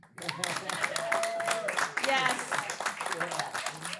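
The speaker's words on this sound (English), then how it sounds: "Let's clap." An audience claps at the opening welcome of a Prince symposium, a dense patter of applause mixed with voices and cheering that carries on throughout.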